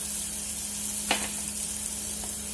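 Ginger garlic paste fries with cooked tomatoes in a pan, giving a bright, constant hiss of sizzling oil with one brief scrape of a utensil near the middle.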